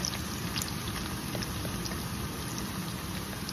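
Onions frying in a pan for a crab curry give a steady, dense sizzling hiss with scattered tiny crackles, continuous and fairly close, with no talking.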